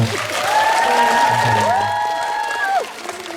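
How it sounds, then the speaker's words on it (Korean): A concert audience at a national cemetery memorial event gives loud, steady applause with some cheering, while a voice is heard over it and the clapping drops off near the end. "다시 한번 큰 박수 부탁드립니다"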